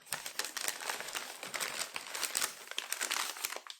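Wrapping paper crinkling and rustling as a Harry Potter swap gift is unwrapped, dense crackling handfuls of paper in quick irregular bursts, close and moderately quiet, no one speaking.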